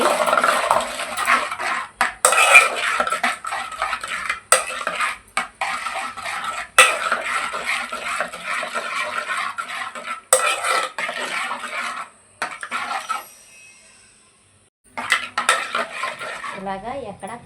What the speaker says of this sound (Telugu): ఇలాగా ఎక్కడ కారం ఉండలు కానీ పసుపు ఉండలు కానీ ఏమీ లేకుండా ఇలా కలిపేసుకుంటున్నానండి